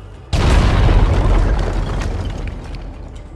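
A single loud explosion from the Minecraft Story Mode video game bursts in suddenly, then rumbles and crackles with debris before slowly fading over a few seconds.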